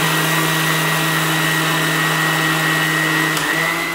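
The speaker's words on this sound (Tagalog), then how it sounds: "I-blender natin" A steady motorized whirring drones on without pause, a kitchen blender running at constant speed with a faint high whine riding on top.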